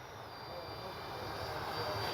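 A Freewing 80mm F-22 RC jet makes a steady, whooshing pass overhead at a flying field. Its electric ducted-fan whine holds at an even level over the short span.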